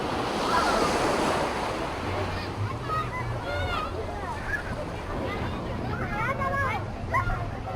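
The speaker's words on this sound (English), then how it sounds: "Have a look at how you hear waves when looking at the sea" Surf rolling onto a beach by the sea near a hotel, a steady wash of breaking waves with wind buffeting the microphone, while distant children's voices and seagull-like calls drift over the top.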